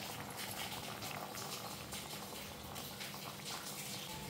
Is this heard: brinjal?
yes